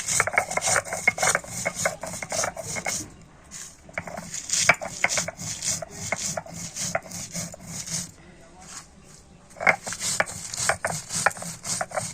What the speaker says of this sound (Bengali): তো মশলাগুলোকে আমি শিলনোড়াতে গুঁড়ো করে নিচ্ছি।